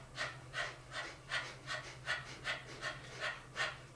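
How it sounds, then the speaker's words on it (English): Rhythmic panting of breath-of-fire yoga breathing during a kriya class, with about ten quick, even breaths pumping in steady succession, close and moderately soft over a faint low hum. "If you do not know how to do breath of fire and you want to learn, the easiest way to do it is to pant."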